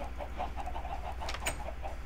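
A Minecraft chicken clucking in a survival game, a soft run of repeated clucks over a low steady background hum.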